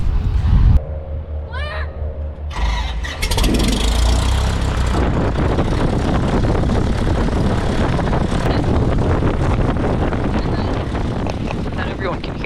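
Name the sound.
Cessna 172 airplane engine and propeller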